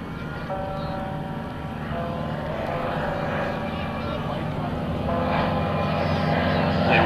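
An air show aircraft flying with its smoke system on, smoke made by injecting thin oil into the hot exhaust, giving a steady loud droning engine and propeller roar that holds throughout and swells slightly toward the end.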